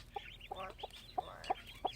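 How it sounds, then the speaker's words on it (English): A hen clucks over a clutch of newly hatched ducklings, giving several short, close clucks in an uneven rhythm over a quiet background. "Chicken is a good mommy, isn't she?"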